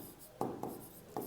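A pen scratches on paper close by, with a soft continuous rub broken by three sharper strokes.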